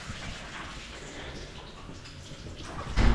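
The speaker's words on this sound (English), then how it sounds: "Okay, I gotta shut this water off" Water gushes steadily from an open valve in a men's room, a continuous broad hiss of running water at close range, ending in a sudden louder knock.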